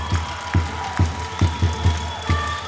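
A handball crowd in a sports hall erupts after a goalkeeper's save, with loud, regular rhythmic thumps like stamping or drumming about twice a second over a steady roar.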